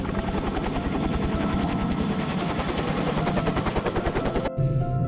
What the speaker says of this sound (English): The red rescue helicopter battles its way into the Amazon skies.